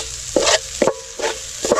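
A spoon scrapes and stirs snail curry with ground spices in a pan, giving four short, close sizzling strokes in an even rhythm.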